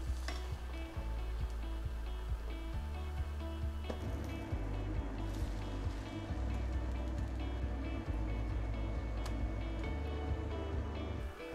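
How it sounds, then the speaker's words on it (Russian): Thin egg pancakes frying in a dry pan, a steady soft sizzle under a constant low hum that runs the whole time, with occasional faint clicks. "Теперь на сухой сковороде жарю тонкие яичные блинчики."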